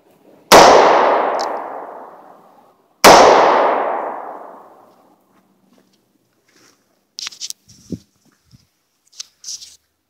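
A Cobra .38 Special derringer is fired outdoors twice, about three seconds apart. Each shot is a loud, sharp crack with a long echoing decay, followed by faint clicks and handling noises.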